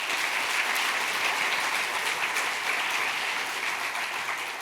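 An audience applauds a professor arriving to give an evening lecture on brains and computers, the clapping steady, dense and sustained throughout with no voices over it.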